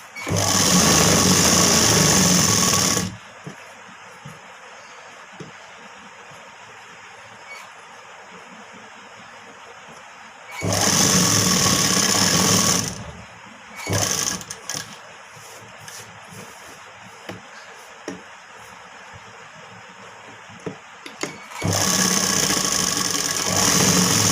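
An electric sewing machine runs in three loud, steady bursts as it stitches pieces of a boat-neck blouse together, separated by quiet gaps with faint handling noises.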